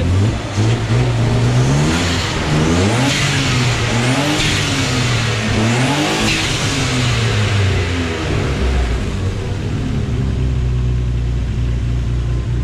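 A BMW 328i bi-turbo engine revs and accelerates hard, loud and close, with repeated rising and falling engine sweeps before settling into a steady roar, no talking.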